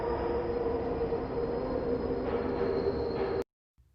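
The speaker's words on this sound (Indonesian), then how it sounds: "Namun naas, kereta pun sudah terlanjur berangkat." A train rumbles steadily at a station, with a constant mechanical drone and a faint high whine running until it cuts off abruptly near the end; no one speaks.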